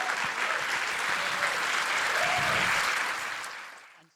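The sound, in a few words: audience applause at demo day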